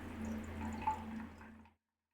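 Water poured into a container indoors, a steady close liquid trickle lasting under two seconds with a brief brighter splash midway, then silence.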